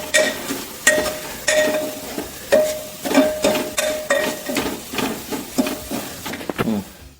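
Squid roasting in a pan with fried onions, stirred with repeated scraping strokes under a steady sizzle, close and fairly loud with no talking.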